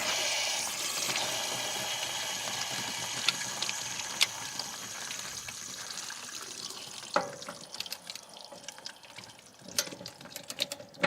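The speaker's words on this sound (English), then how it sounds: "Yep, water pump was still on." An RV water pump hums while water flows and sprays during work on a Suburban 6-gallon water heater, a steady hiss that fades as scattered clicks and clanks of handling come through at close range.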